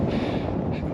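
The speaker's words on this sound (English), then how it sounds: "The wind blows." Strong wind on a high, exposed Appalachian Trail ridge buffets the microphone in a loud, steady roar for a brief moment, with no voices.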